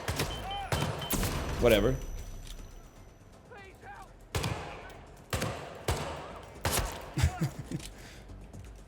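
Loud bursts of gunfire in a Hitman video game, sharp separate shots scattered irregularly across the passage, some close together in rapid volleys, with a voice speaking between them.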